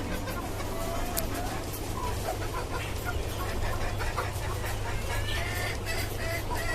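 Native chickens kept in cages on the roof of a five-storey building cluck and squawk amid a steady, noisy background hum, with scattered bird calls throughout.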